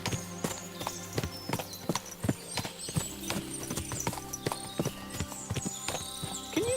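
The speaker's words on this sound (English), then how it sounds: "What a lot of horses." Several horses clip-clopping in Kingdom Come: Deliverance II, a busy, uneven patter of hoof strikes on hard ground, fairly close, with occasional snorts and faint background sound.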